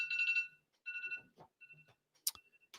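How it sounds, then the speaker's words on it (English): A phone alarm sounds in bright, rapid electronic beeping bursts separated by short gaps, fairly faint, with brief murmurs of a voice between the tones. "I've got a phone going off with its alarm"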